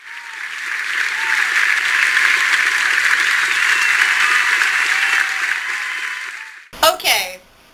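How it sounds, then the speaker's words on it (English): A studio audience claps steadily for a guest author, a dense, even wash of applause lasting several seconds before fading, followed by a brief burst of close speech. "Let's give a big round of applause to James Thurber."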